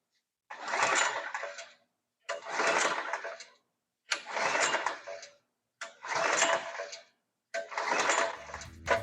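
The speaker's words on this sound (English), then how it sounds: "We're going to start the machine." RM756YC machine engine cranked repeatedly with the lever on choke, five separate pull-start bursts about two seconds apart, each a loud rasping turnover that fails to catch.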